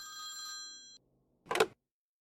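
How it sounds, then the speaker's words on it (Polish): Telephone ringing in the Priest Simulator video game, a bright electronic bell tone holding for about a second before cutting off, followed later by a short loud burst; no talk. "Odbierz telefon raz jeszcze."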